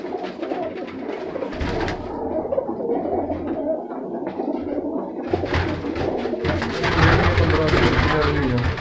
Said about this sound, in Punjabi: ਇਹ ਜੀ ਵੱਡੀਆਂ ਕਬੂਤਰੀਆਂ ਨੇ ਸਾਰੀਆਂ ਜੀ